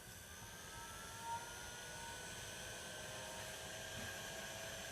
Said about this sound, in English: It's rapidly heat cured using a heat source like a heat gun.